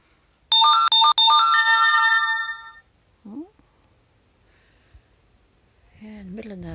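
Mobile phone ringtone chiming loudly for about two seconds in an open countryside spot far from anywhere, then silence before a person starts talking.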